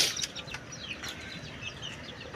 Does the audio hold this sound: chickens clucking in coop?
yes